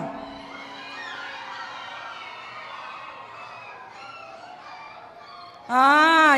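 Children at a summer camp imitate a hurt puppy, ending in a loud, wavering whimpering whine that rises abruptly after a quieter stretch of distant voices in a large room.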